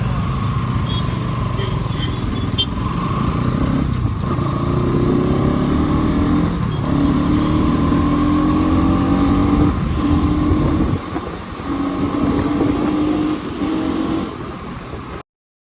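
A 2024 Bajaj NS 200 motorcycle runs at high speed on an open coastal highway, its engine droning loud and steady with shifting pitch and heavy wind rush throughout, before cutting off abruptly at the end.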